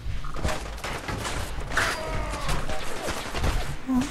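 Gunfire in the video game Fallout 4, rapid overlapping shots and thuds in a dense volley, with a voice faintly mixed in.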